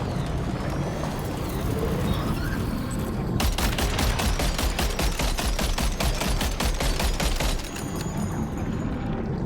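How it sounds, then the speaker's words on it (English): Rapid machine-gun fire in the video game Death Stranding 2, a long continuous burst of evenly spaced loud shots over a dense rumbling battle background. "Go, machine gun,"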